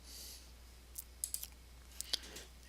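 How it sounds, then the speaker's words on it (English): A computer mouse right-click and nearby keyboard use while working in an Excel spreadsheet: a handful of faint, sharp plastic clicks, some closely paired, over quiet room hiss with no talk. "I'm going to right click and copy"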